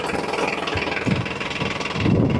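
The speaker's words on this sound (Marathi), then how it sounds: "ट्रॅक्टर आपण स्टार्ट केलेला आहे क्रिपर गिअर मी केलेला आहे इथे ऑन त्यानंतर ट्रॅक्टर मी टाकलेला आहे फर्स्ट गिअरमध्ये" A Mahindra Oja tractor engine runs with creeper gear and first gear engaged, giving a steady, close mid-pitched rumble with slight vibration and no talk.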